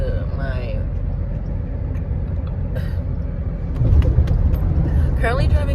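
Steady low road rumble from a car being driven around 8 a.m. runs throughout, close and continuous, with a person talking over it.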